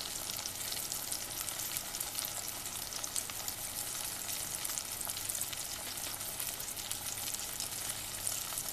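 Chicken pieces frying in deep oil, skin side down, for crispy fried chicken: a steady, dense sizzle and crackle that holds evenly loud throughout with no talking.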